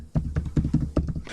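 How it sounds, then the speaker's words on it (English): Keys on a computer keyboard are struck one by one while a mobile number is entered into a Microsoft Access form. About eight distinct, close, solid taps come at an uneven pace, with no voices. "I am typing my mobile number."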